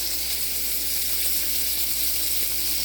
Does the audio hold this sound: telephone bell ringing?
no